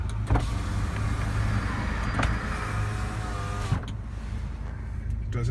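Power windows on a 1999 Ford F-250 4x4 V10 Lariat pickup run with a whirring electric motor hum, nearby and continuous, with a few clicks and thumps as the glass moves and stops.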